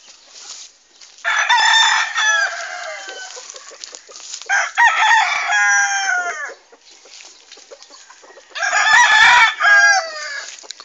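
Chickens on a farm cluck and a rooster crows loudly nearby, three long strained calls with quieter clucking and rustling in the gaps.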